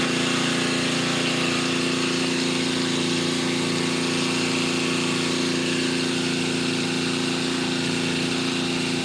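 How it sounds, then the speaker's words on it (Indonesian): A loud well-drilling machine engine runs continuously with a steady droning hum and rattle, unchanging throughout. "iya maaf ya kalau berisik suaranya emang keras ini suara mesinnya"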